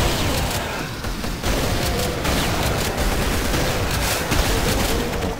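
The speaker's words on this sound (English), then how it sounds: "I think it's a minigun." Minigun fire in Brutal Doom, a loud continuous rattling stream of rapid shots with booming impacts that runs almost unbroken throughout.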